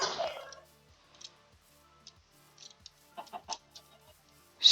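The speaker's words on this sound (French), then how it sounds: "Je tue ce poulet." A chicken in the video game Minecraft gives several short, soft clucks and clicks at irregular intervals, faint and spread across the moment after a louder burst of noise at the start.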